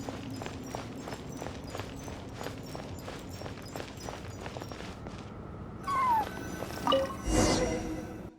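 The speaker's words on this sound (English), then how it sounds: "I followed the cat's cries to find my way out" A cat in the Genshin Impact video game cries with a few plaintive meows near the end, after a stretch of rhythmic footsteps and ambient game sound.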